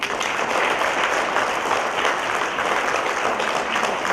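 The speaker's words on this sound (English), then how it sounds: "Can we clap once again?" Audience applause at a women's awards event in Telangana, steady dense clapping from a large crowd filling the whole stretch at an even, sustained level.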